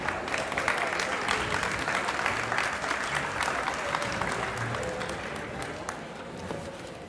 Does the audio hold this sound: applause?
yes